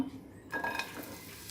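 Chopped onions hit hot oil left from frying eggs, bursting into a soft sizzle with clinks of a utensil against the pan, fairly quiet and close.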